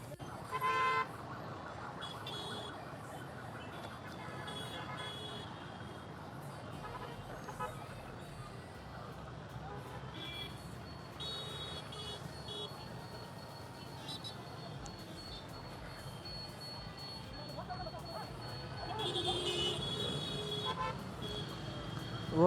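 Heavy gridlocked traffic in Bangalore during rain: a faint continuous street rumble with repeated car horn toots near the start, middle and end, under occasional talk.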